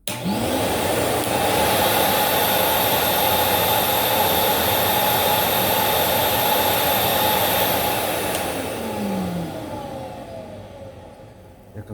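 A carpet cleaning machine runs steadily with a softer, smoother whooshing hum, then gradually winds down toward the end.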